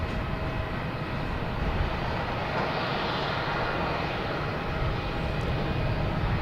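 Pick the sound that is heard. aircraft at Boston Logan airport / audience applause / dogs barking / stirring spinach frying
aircraft at Boston Logan airport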